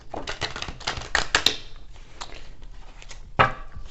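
Tarot cards being shuffled by hand, heard as bursts of crisp papery riffling and flicking with a sharper slap near the end, close and fairly quiet with no talk.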